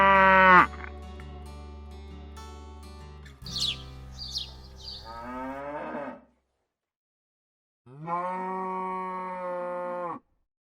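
Cattle on an Ozark beef farm with about 125 cows moo loudly in several long, drawn-out calls, separated by pauses and a few faint bird chirps.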